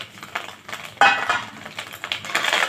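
Khoya being roasted and broken up in a hot heavy-bottomed kadhai, with light scraping, clinks and taps of metal on metal in an uneven rhythm, close and fairly soft, with one sharper knock and no talking.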